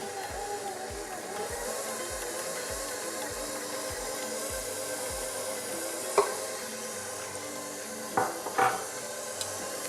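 Cake batter churns steadily in a mixer bowl as oil is slowly poured in, a regular rhythmic beat of the beater throughout with a few sharper clinks near the end, close and moderately loud, with no talk.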